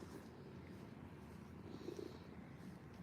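A cat purrs softly and steadily up close, a low continuous rumble at a quiet level with no talking over it.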